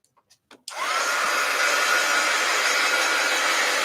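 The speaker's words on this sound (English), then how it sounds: "Heat gun alert." A few soft clicks, then a handheld heat gun starts up and blows a loud, steady, close whooshing hum while drying paint.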